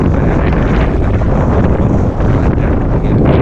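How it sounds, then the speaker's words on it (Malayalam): Wind sweeps across a grassland hilltop at Nachiyar Motta and buffets the microphone with a loud, steady roar that hardly lets up. "ഇതിപ്പോൾ ചെറിയ കാറ്റാണ്"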